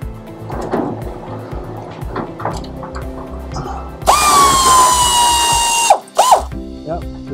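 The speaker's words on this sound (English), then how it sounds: "So now take your ratchet," A ratchet runs bolts out on a 1972 Cadillac, starting with scattered clicking and clunks, then a loud continuous whirring burst of about two seconds, then brief follow-up bursts, all close by.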